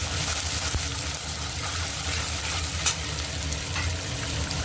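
Cumin and turmeric sizzle steadily in a little hot oil for a Bengali banana-flower dish, a continuous close frying hiss with occasional soft stirring scrapes.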